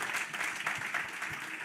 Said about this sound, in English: Would y'all clap your hands for Dr.